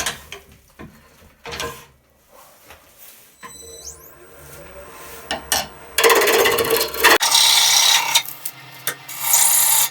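A wood lathe spins a spalted apple bowl while a tool cuts a tenon, starting with scattered scraping and rubbing and building into loud, steady rasping bursts near the end.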